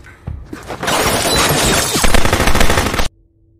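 A sustained burst of rapid gunfire from police shooting from a neighbouring building in the film The Suspect, with dense cracking reports mixed with shattering, running loud for about two seconds before stopping abruptly.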